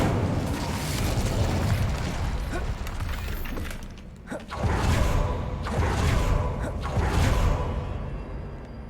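An Incendio fire spell cast in Hogwarts Legacy erupts in heavy rumbling booms and fiery whooshes, loud and sustained, swelling in waves with a brief lull midway.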